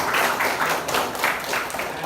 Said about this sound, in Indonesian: biar semangat, tepuk tangan dulu kita